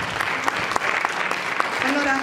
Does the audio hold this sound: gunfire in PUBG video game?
no